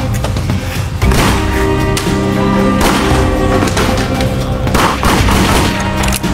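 Rapid bursts of gunfire sound effects accompany pretend target shooting with a homemade toy gun, loud repeated cracks over a dense, busy background.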